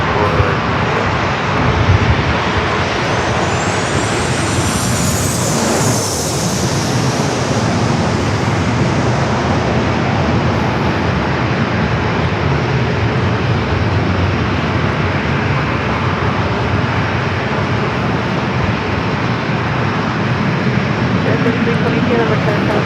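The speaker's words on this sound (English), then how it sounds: "That's a flight coming in from Reagan National, flight 15" A Boeing 737-800 arriving from Reagan National on short final to San Diego airport roars loudly overhead, its engine whine peaking early, then easing into a broad rumble while someone talks over it.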